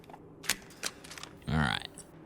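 Tactical reload of the F2 rifle in Resident Evil Village: a few sharp mechanical clicks and clacks, then a longer metallic ratcheting slide, close and crisp over a quiet background.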